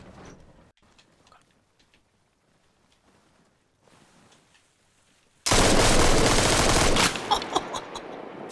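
MG34 machine gun in the military shooter Arma Reforger, opening into a loud sustained burst of automatic fire after quiet, scattered distant shots, with rapid reports continuing to the end.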